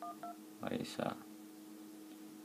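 iPhone keypad dialing tones with an iOS 6 theme: two short beeps, then a quick cluster of several tones, each crisp and close, under someone speaking French.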